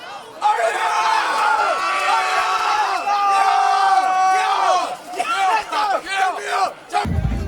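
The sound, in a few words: crowd of Eagles fans cheering at a basketball game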